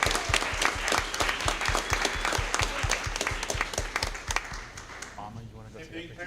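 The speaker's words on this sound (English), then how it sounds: "So please give them a huge round of applause." Applause from an audience at a school board meeting honoring national qualifiers in an ethical dilemma competition, a steady round of clapping with close, sharp claps that fades near the end.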